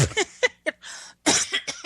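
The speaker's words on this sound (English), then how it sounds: "trying not to cough on the mic there" A few short, harsh coughs come in quick bursts close to the microphone, separated by brief pauses.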